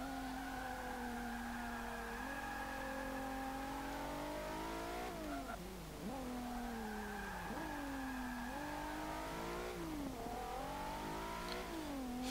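A 2014 Infiniti Q50 Eau Rouge in the Forza 5 racing game, its engine revving loud and steady through repeated upshifts and rising pitch, with brief tire squeal and skidding around a dip in the middle.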